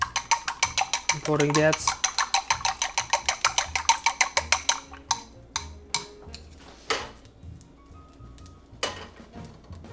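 Spatula strokes stir an omelette with spinach and cheese in a pan, a rapid run of scraping taps for about five seconds, then slower scattered clinks, with a brief voice in between.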